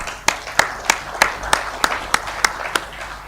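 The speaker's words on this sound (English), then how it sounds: "let's give a big round of applause and welcome Chandrakanth" Audience applause welcoming a founder onto a conference stage, about ten distinct, evenly spaced claps standing out over a soft background of scattered clapping.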